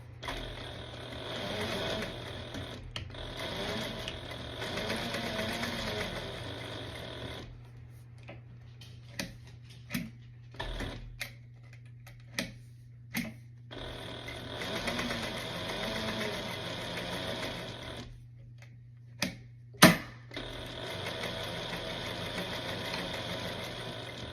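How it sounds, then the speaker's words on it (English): A sewing machine stitches two denim jacket pocket flaps at a seam allowance, running in steady mechanical bursts with short pauses and a few sharp ticks between runs, close and fairly quiet over a low hum. "I'm going to take both of those flaps over to the sewing machine to do that first"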